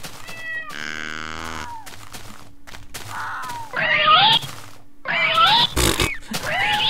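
A cat in a YogBox game episode meows and caterwauls several times in drawn-out, wavering cries, loud and close, with short gaps between calls.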